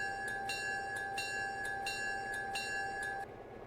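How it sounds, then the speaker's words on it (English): A locomotive bell rings inside a train cab, struck repeatedly in a steady rhythm over a constant engine hum, then stopping. "We've got a bell."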